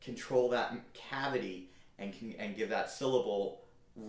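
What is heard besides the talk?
None of the usual background noises is heard.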